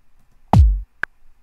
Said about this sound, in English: So if I were to make like a beat that is quantized with the click, this kick and snare sounds like this.